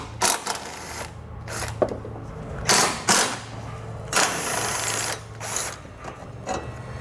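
Socket wrench backing out three 10mm bolts from a 2016 Mazda front end during a Roadmaster base plate install; close ratcheting clicks come in several separate bursts with short pauses between, no talking.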